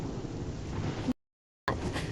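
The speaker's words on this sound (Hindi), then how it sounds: "इतनी तेज तेज बिजली गरज रही है" Thunder rumbling during a storm in a Hindi cartoon, a loud broad roar with rain and wind, broken by a brief silent gap before resuming.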